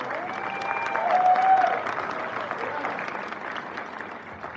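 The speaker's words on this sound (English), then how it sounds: "Give Lucas a round of applause." Audience at a school welcome assembly breaks into steady applause, a dense patter of clapping that swells briefly then tapers slightly, moderately distant in a large room.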